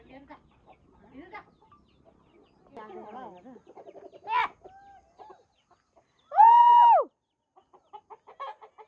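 Chickens, including two roosters, cluck in short scattered bursts in Ghachok village, then one loud, drawn-out squawking call rings out clearly before quieter clucks return.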